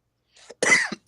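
A person coughs at close range: a faint throat rasp, then a harsh cough burst and a short trailing cough, sharp and dry in an otherwise quiet room.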